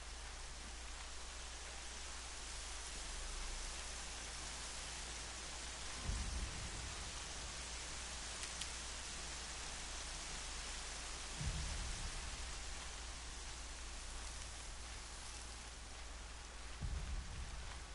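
Constant rain pours in a PS4 video game, an even wash of hiss with no letup. Low muffled thumps of thunder arrive at roughly regular intervals, and no one speaks.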